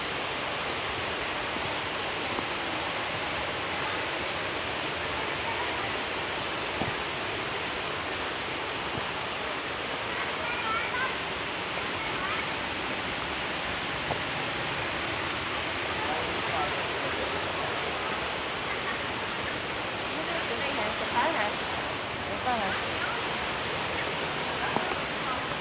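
A waterfall roars as a steady, broad rush of falling water that continues without a break for the whole stretch, at a moderate level with no clear voices above it.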